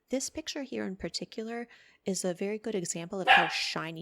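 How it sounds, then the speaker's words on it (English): A pet dog gives a short bark or yip partway through, under a woman's continuous close indoor speech. "that's my dog"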